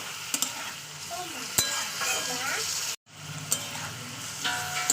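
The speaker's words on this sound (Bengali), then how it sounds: "আবার একটু মাংসের সঙ্গে কষিয়ে নিতে হবে যেহেতু আদা গন্ধ থাকে তো দু তিন মিনিট মাংসের সঙ্গে কষিয়ে নেবো" Mutton sautéing in a pan with ginger-garlic paste gives a steady close sizzle, with scraping stirs and spoon clicks throughout and a brief break in the middle.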